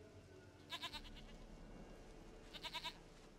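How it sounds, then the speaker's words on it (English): A goat in The Witcher 3 bleats twice, each a short, quavering run of pulses. The calls are clear and nearby over quiet ambient background. "dearest, sweetest goat."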